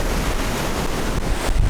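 Ocean surf at Dahican beach in Mati, Mindanao, Philippines: a loud, continuous wash of breaking waves mixed with heavy wind buffeting the microphone, with no voices.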